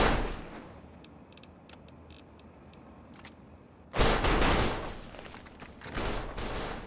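Bursts of assault rifle fire in the video game Fallout: Tale of Two Wastelands, a rapid volley at the start, scattered shots in between, then a loud sustained burst of gunfire toward the end.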